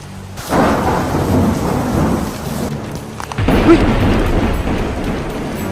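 Loud rolling thunder rumbles over a steady downpour of rain, close and continuous, with a second heavy crash partway through.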